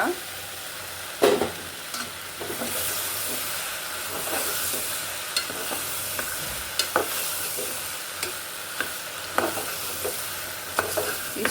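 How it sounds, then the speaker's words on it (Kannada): Soaked soya chunks frying in a pan for vegetable pulao, a steady close sizzle and hiss with occasional sharp stirring scrapes and clinks, no talking. "ಸೋಯನ್ ನೆನೆಸಿಟ್ಕೊಂಡಿದ್ದೆ ರಾತ್ರಿನೇ ಅದನ್ನು ಹಾಕ್ಕೊತಾ ಇದ್ದೀನಿ"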